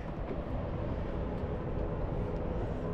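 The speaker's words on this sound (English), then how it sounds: "You hear the airplane? Yep, I'm near the runway" An airplane flies near the runway of Bali's international airport, heard from a kayak on the water as a steady, loud, broadband roar that fills the whole short stretch without a break.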